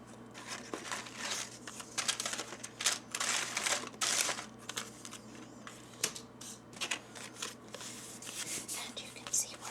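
Small plastic buttons click and clatter in quick, irregular bursts as they are sorted by hand into piles, close and soft, with faint whispering in between.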